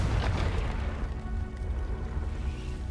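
The Confringo fire spell explodes in a Harry Potter video game with a single heavy, booming burst that hits hard at once and then fades into a rumbling tail.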